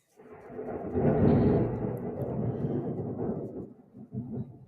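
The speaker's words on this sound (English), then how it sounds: "it is thunder and lightning right now" A deep rumble of thunder rolls through a thunderstorm, swelling loud then slowly fading over a few seconds, heard alone without talking.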